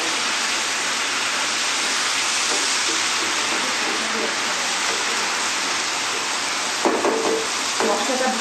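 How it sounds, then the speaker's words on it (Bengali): Banana flower and potato are stir-fried with spices in a pan, giving a dense, loud, continuous sizzle with occasional scraping stirs near the end. "মশলার সাথে কলার মোচা এবং আলু যখন মিক্স হয়ে যায় সেগুলো খুব ভালো করে নেড়ে"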